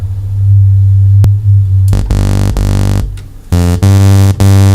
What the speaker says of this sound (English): this is our saw wave, and by going through its spectrum you can hear its overtones